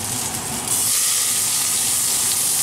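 Onion and garlic hitting hot olive oil, a sudden loud, steady hiss of sauteing that rises and holds for a couple of seconds.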